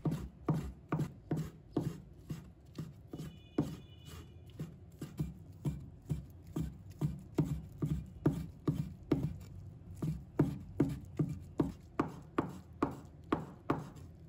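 A knife chops soaked dried shiitake mushrooms on a cutting board in a steady run of quick, crisp taps, close and fairly quiet, continuing evenly for the whole stretch.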